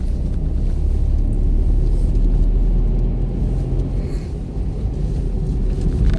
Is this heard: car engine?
yes